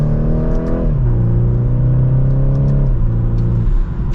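2024 BMW 430i Coupe accelerating hard from second gear, a loud steady engine drone climbing in pitch, dropping at a quick upshift, then climbing again before a second shift, heard from inside the cabin.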